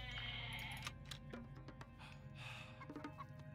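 Goats bleat in the strategy game Age of Mythology, several short wavering calls over a busy background of game sounds.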